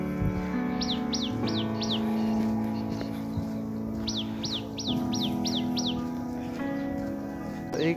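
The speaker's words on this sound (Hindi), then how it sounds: "चहचहाती चिड़ियों का।" Small birds chirp in an early-morning village, giving quick bursts of rapid high tweets in two clusters over a steady hum of distant traffic or engines.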